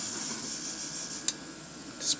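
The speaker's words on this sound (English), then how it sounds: "let me spray NightCrawler as well" An airbrush sprays paint onto a masking-tape Nightcrawler figure, giving a soft, steady airy hiss with a brief sharp burst near the middle and another short spurt at the end.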